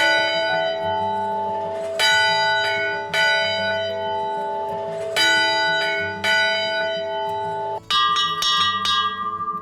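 California mission church bells ring out in a slow, resonant series of about eight strikes, each leaving a long shimmering tone that overlaps the next before the bells sound again.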